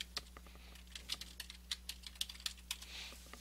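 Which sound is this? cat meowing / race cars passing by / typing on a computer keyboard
typing on a computer keyboard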